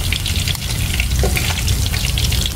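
Fish frying in a pan in a Vietnamese home kitchen, a steady close sizzle and crackle of hot oil running throughout, loud and continuous with no talk over it.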